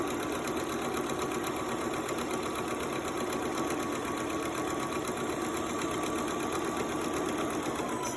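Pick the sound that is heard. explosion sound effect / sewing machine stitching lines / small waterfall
sewing machine stitching lines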